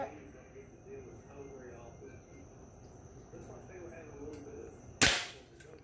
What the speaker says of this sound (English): Shoot this BB gun.